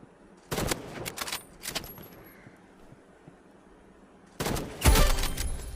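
Burst rifle fire in a video game: short rapid volleys of shots, one early cluster, a second shortly after, then a louder burst near the end, with quieter game ambience between.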